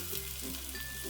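Cauliflower frying in a pan over a medium flame, a soft continuous sizzle with faint crackle, quiet and close, no talking.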